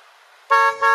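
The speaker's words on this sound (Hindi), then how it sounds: "जो इसका हॉर्न है ना वो बहुत अच्छा है, मैं आपको सुनाऊं।" A 2019 Hyundai Creta's car horn gives two loud, close honks in quick succession: a short blast, then a brief dip, then a second held tone.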